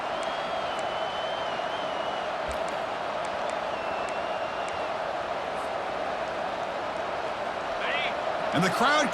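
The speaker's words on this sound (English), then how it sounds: "And the crowd coming to life here" Football stadium crowd roaring steadily for the defense in the red zone, a broad continuous wash of cheering and noise throughout, with a commentator talking over it.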